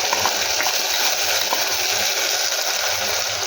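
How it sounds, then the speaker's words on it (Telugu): Tomato paste made from two medium tomatoes sizzles as it hits well-fried onions in a pan for tomato pulao, a loud, steady broadband hiss with no talk. "ఇలా బాగా ఫ్రై అయిన తర్వాత ఇందులోకి ఒక 2 మీడియం సైజ్ టొమాటోలు ఇలా పేస్ట్ చేసి వేసుకోండి"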